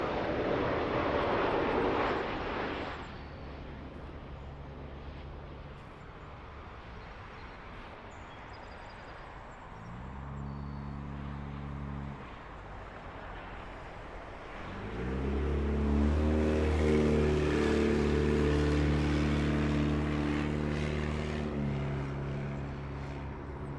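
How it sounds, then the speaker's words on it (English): An airliner landing at Toronto Pearson airport roars loud and close, with a strong engine rumble from about ten seconds and swelling again near fifteen seconds as a second plane follows close behind. "Sounds like another plane following real close."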